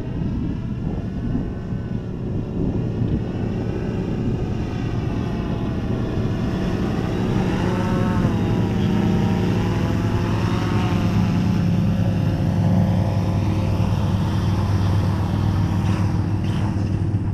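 An Eagle Tree Vector FPV model airplane comes in to land, a steady loud whirring motor and rushing wind noise running throughout with slight pitch shifts as the throttle changes, no voices.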